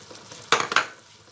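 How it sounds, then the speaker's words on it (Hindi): Ground tomatoes drop into a hot pan for mutton kofta curry, a sudden short sizzle and splash with a quick stir, close and brief. "हम डालेंगे जो हमने टमाटर ग्राइंड करके रखा है, ये देखिए।"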